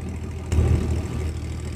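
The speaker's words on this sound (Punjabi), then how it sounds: "ਸ਼ੋਰ ਹੀ ਬੜਾ ਟਰੈਕਟਰ ਦਾ" A tractor engine runs nearby with a low, rumbling idle and a brief surge in loudness, a continuous mechanical drone without any voices.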